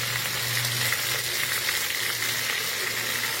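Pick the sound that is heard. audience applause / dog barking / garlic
garlic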